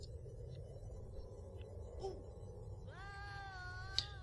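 Cats meow in the video game Conker's Bad Fur Day, a clear wavering meow rising near the end over a low rumbling game background, with faint earlier mewing.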